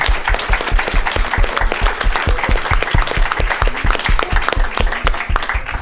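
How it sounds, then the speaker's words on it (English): An audience applauds steadily, many hands clapping in a dense, even patter that continues throughout. "So an applause for the participants."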